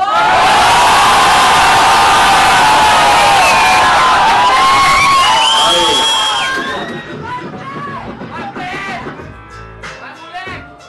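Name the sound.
crowd cheering at a freestyle rap battle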